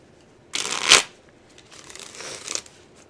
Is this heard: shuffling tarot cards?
yes